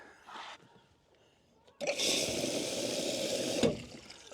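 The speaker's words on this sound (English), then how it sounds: "And then I'm going to put a little bit more water in there." Water pours and splashes into a campervan toilet waste cassette in a steady gush lasting about two seconds, after a brief short splash, close and moderately loud.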